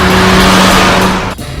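A Nissan Cube's small engine revving hard and straining as it accelerates, loud and close, with a brief drop near the end.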